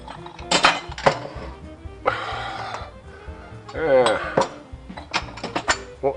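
A bowl being taken out and set down in a home kitchen while making Peruvian ceviche, with several sharp ceramic clinks and knocks scattered between bursts of nearby talk.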